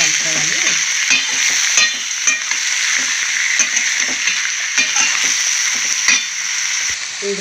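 Bitter gourd pieces sizzle loudly in a pan while being stirred, with a constant close frying hiss and repeated scraping and clinking of the spoon.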